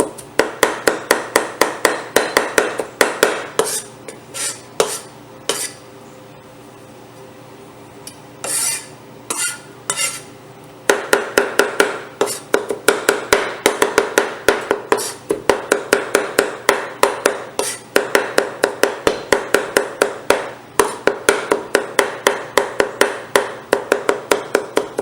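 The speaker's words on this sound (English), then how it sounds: "Chop the ginger real fine like this" A knife finely chops ginger on a cutting board in steady, close, sharp taps, pausing briefly partway, then resuming at a brisk rhythm.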